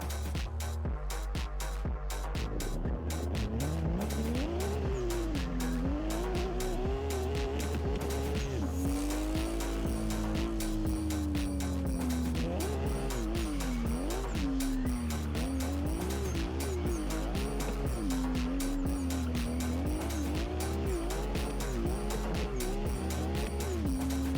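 A car drifting in Assetto Corsa, engine revving up and down while the tires squeal in long wavering bursts through sliding transitions, loud and continuous with no talking.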